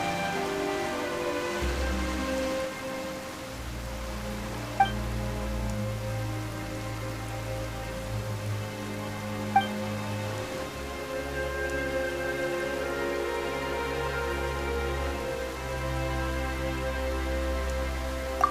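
Rain falls in the Genshin Impact video game, a steady patter that runs alone beneath sustained background music with low tones, and a few faint clicks stand out at intervals.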